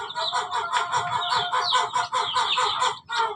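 A mother hen clucks continuously close by among her chicks, a steady run of rapid, throaty calls with faint high peeps mixed in.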